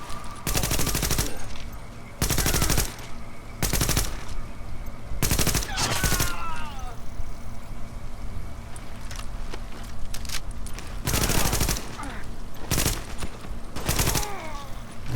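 Automatic gunfire in the video game The Division comes in about eight loud, rapid bursts, each lasting a second or so, separated by short gaps with faint background sounds.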